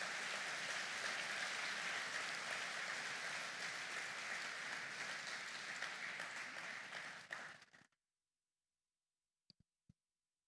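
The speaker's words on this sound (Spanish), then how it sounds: "Denle un fuerte aplauso a nuestro Dios." A church congregation applauds during a Sunday service, a dense, steady roar of clapping that holds loud for about eight seconds, then cuts off abruptly, followed by silence and a couple of faint clicks.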